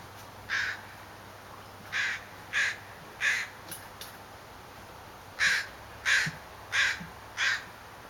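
Gull calls on a waterfront in Ganges as it eats a crab, harsh squawks coming in two runs of about four evenly spaced calls each, moderately near, over faint ambient background.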